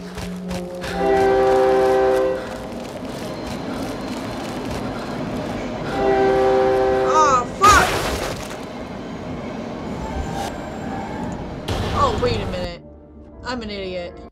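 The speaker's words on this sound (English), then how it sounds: "How the fuck am I gonna outrun a goddamn train?" Subway train in the horror game Cry of Fear, drawing near with two loud blaring horn blasts, a sharp crashing burst and rumbling rail noise, while someone talks over it throughout.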